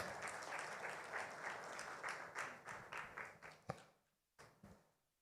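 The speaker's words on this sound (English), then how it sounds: "Let's keep giving them a round of applause." Audience applause for partners at a travel expo breakfast, a crowd clapping in uneven waves that thin into a few scattered claps before dying away.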